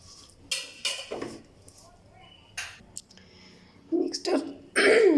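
Fish being mixed by hand with spices and mustard oil in a bowl, heard as a few scattered close clinks and scrapes of bowl and utensil, irregular and brief, with stretches of near silence between them.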